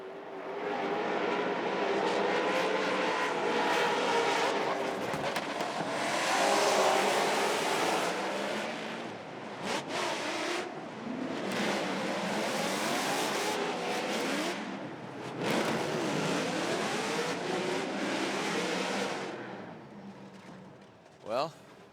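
Two Ford Mustang drift cars run together at a Formula Drift competition, engines screaming and revving hard in long rising and falling bursts for the whole run, loud and close, with commentators talking over the noise.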